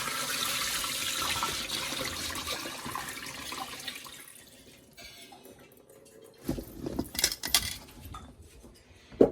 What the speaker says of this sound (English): So I'll just go over to the sink here and get that water out of this pan.